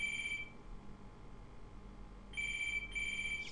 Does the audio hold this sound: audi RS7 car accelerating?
no